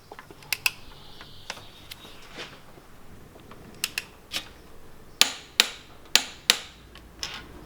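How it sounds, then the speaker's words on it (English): A torque wrench tightening ARP head studs on an RB25 NEO engine gives sharp, isolated metallic clicks, scattered at first and then a louder run of five or six evenly spaced clicks near the end, with no talking. "Drop the socket back on and torque to spec."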